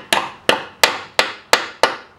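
Six sharp, evenly spaced hammer taps ring out close and loud as a front brake clip on a 2003 Chrysler Sebring Coupe is knocked into place, each strike decaying quickly.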